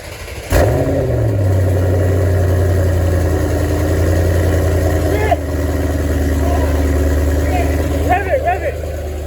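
A cammed 3V Mustang GT V8 with Pypes long tube headers and Pypes muffler cranks and starts, then settles into a loud, deep, lumpy idle close by, with voices talking over it.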